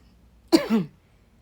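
A man coughs while smoking weed: a single short, throaty burst of coughing, close and fairly loud, with quiet on either side.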